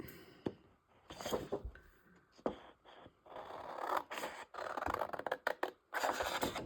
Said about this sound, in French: Allez, on va venir découper.